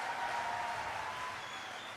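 Audience applause at a Hindi comedy poetry show, a steady broad wash of clapping that holds at a fairly even level throughout and fades slightly toward the end, with no talking over it.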